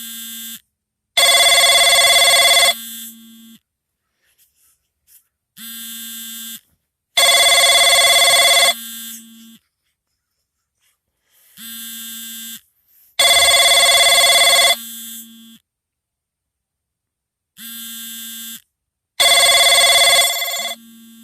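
A telephone rings loudly and close by, with repeated trilling rings in a steady on-off pattern, each lasting over a second with brief pauses between.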